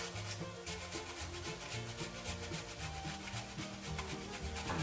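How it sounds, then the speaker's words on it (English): An ingredient for chicken curry scraped against a grater in quick, regular strokes, a close rhythmic rasping that continues steadily with no voices. "so just grate it"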